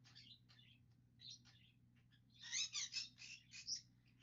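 A pet bird chirps indoors in a few quiet, scattered bursts, then a louder run of quick chirps near the end, over a low steady hum.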